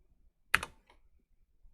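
A few quiet keystrokes on a computer keyboard, one brief cluster of clicks in an otherwise still room.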